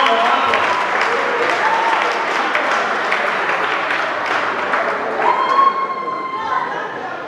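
An audience in a legislative house chamber applauds loudly and steadily throughout, a dense wash of clapping with murmured voices mixed in.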